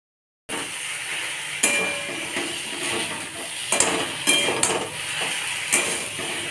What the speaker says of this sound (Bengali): কষাতে থাকবো, সব একবারে কষাতে থাকবো।